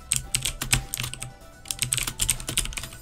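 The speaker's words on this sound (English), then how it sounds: "This is legitimately me trying to play in keyboard." Computer keyboard keys tapped rapidly while someone plays a platformer game with dash and jump controls, giving an uneven, clicky run of close presses and short bursts over a low background hum, without speech.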